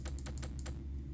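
Quick clicking from the video game Pony Island: about six sharp, evenly spaced keyboard-like taps bunched in the first second over a steady low hum, with no voices.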